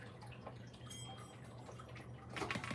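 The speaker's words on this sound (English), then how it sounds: "we fill it up with this much water" Water trickling and dripping into a container to soak raffia for weaving basket caps, a faint, steady splashing that swells slightly louder near the end, with no talk.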